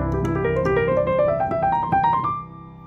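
A jazz piano plays a quick rising run of dominant pentatonic melodic cells, arpeggiated up the keyboard in even steps over a sustained low note, ending on a ringing high tone.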